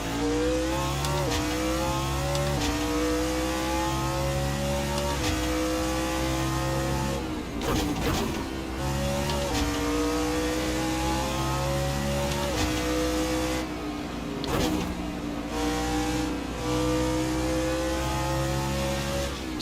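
Race car engines roar steadily through a Fuji circuit race in the Assetto Corsa sim, revving up and down as the car shifts and passes a Mercedes, loud and continuous with no talk.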